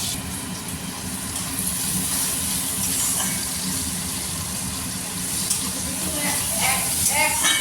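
Onions frying in a pan give a steady, close sizzle that carries through the whole stretch, with faint watery crackles rising near the end and no voices.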